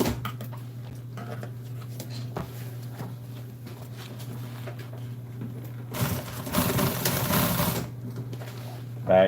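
A sewing machine back-stitches a motorcycle seat cover, a steady low motor whir broken by a harsher, louder burst of rapid stitching late on, with someone talking over it.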